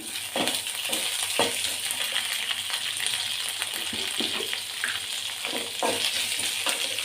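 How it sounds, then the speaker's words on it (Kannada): Ingredients for avarekalu sambar sizzle and fry steadily in a pan until golden, a loud, dense crackle with occasional stirring scrapes, close up and continuous with no talk. "ಈಗ ಗೋಲ್ಡನ್ ಕಲರ್ ಬಂದರೆ ನೋಡಿ, ಇಷ್ಟು ಫ್ರೈ ಮಾಡ್ಕೋಬೇಕು."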